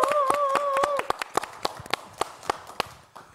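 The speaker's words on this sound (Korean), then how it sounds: "다음 참가자 안병우님 여러분 큰 박수로 해주십시오." Scattered claps from a studio audience on a Korean open-mic singing contest show welcome the next contestant, sharp irregular hits with a whistle-like tone at the start, thinning out toward the end.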